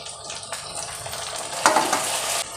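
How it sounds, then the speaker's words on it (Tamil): Onions, garlic and tomato sautéing in a pan, a continuous close sizzle broken by a few spoon scrapes and a louder burst of frying midway as the tomato goes in. "வெங்காயம் பூண்டு நல்லா வதங்கின பிறகு தக்காளி போட்டுக்கலாம்"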